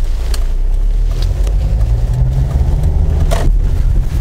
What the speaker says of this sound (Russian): Ну, дизелягу немного слышно,